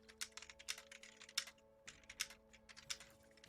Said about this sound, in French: J'ai entendu ton bruit de clavier tout pourri là.